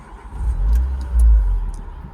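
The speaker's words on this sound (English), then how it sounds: "So I'm going to start the car up, foot in the brake," Renault Wind roadster with a 1.6 engine, started with a turn of the key: a low, throbbing idle rumble that rises in two swells as the engine catches and revs, close by, with no speech.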